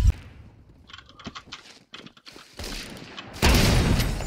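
Shots fired through walls with a .50 BMG rifle in a shooter video game, sounding as a sharp report at the start, scattered mechanical clicks and a loud sustained blast toward the end.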